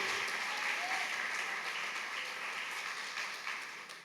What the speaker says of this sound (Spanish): Alguien dele un aplauso al Señor esta mañana, hermano.